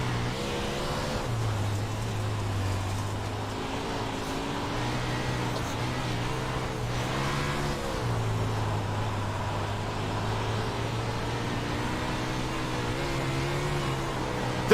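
A race car engine in the iRacing sim drones steadily throughout, its pitch rising and falling with gear changes and throttle, loud and continuous with no talking.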